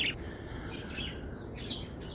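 Budgie chirping outdoors, a few short high tweets and calls over a steady background hum, moderately faint and without any talk.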